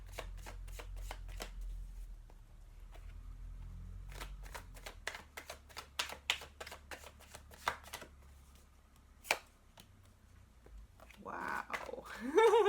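Chuck Spezzano love cards being shuffled in a run of crisp riffling bursts and soft clicks, quiet and close, with a short gap before a person's voice comes in near the end.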